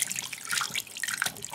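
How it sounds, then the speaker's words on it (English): Tap water runs steadily into a sink while a small toy dinosaur from a dinosaur egg toy is rinsed under it, a close, splashy stream with a few brief drips and no talking. "Put the baby dinosaur in the water and clean it."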